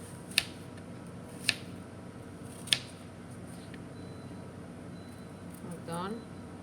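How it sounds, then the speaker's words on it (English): A knife dices apples for an apple crisp pizza at a teen cooking workshop: three sharp, separate chops land about a second apart over a soft room background. "Now you're going to dice the apple."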